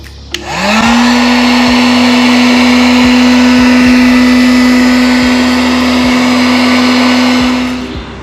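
A heat gun runs on the edges of tinted tail lights on a Dodge Challenger, a loud steady blowing whine from start-up to shut-off, close and alone.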